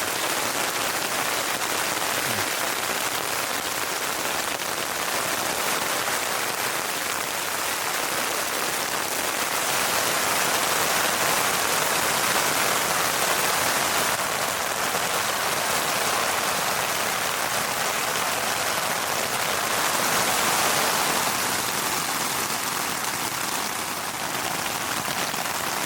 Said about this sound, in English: After relaxing, listening to the sounds of the rain